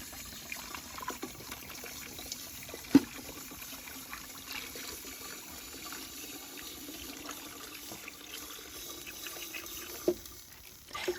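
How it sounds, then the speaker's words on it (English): Water trickles and pours into the reservoir of a wood-burning heating stove, a faint, steady liquid splashing with a few sharp clinks and knocks, all quite low in level and without speech. "Now I'll fill the reservoir with water"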